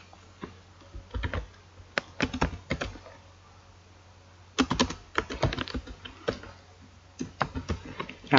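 Python code is typed on a computer keyboard in irregular bursts of crisp key clicks with short pauses between them, close and fairly quiet with no voice.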